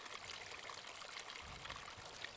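Water pours steadily down a pondless waterfall built from stones in a garden, a constant, even rushing and trickling wash from start to finish with no voices.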